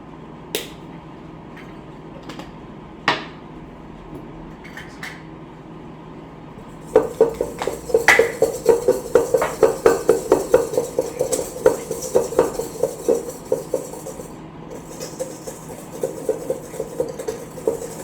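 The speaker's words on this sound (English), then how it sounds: "Now we're going to do the dreaded whisk together until combined." Coffee cake batter whisked in a bowl: after a few scattered clinks, a steady run of rapid, rhythmic scraping and tapping of the whisk against the bowl, close and fairly loud, with no talking.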